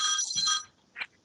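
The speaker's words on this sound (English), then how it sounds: "There's a phone ringing somewhere." A phone rings during a council meeting, a bright electronic ringtone sounding for about half a second, then a shorter second burst after a pause; fairly close and clear, with no talk over it.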